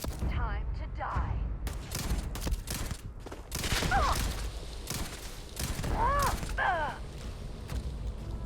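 Gunfire in a Starfield firefight comes as bursts of rapid shots and booms, mixed with shouting voices and other combat noise throughout.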